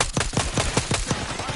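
Rapid automatic gunfire rattles in Black Ops 6, about eight evenly spaced close, loud shots in a steady burst with no voices over them.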